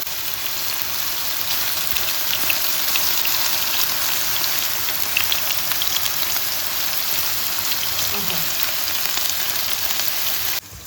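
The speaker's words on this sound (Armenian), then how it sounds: "Մինչ երկրորդ կողմով էլ է կարմրում սունկը" Oyster mushrooms frying in a pan, a steady, dense sizzle that stays close and even throughout before cutting off abruptly at the end, with no talking.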